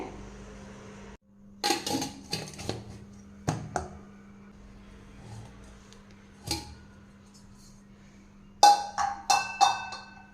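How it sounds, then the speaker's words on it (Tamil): Clinking of metal cookware, a lid set onto a pot of freshly ground appam batter with several scattered clanks and taps in a quiet room, a low hum underneath. "இப்போ இதை மூடி போட்டு வச்சிடலாங்க"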